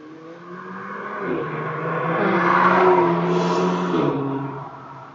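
A Citroen car overtakes through a built-up area, its engine swelling louder as it passes close by and then fading, with no talk over it.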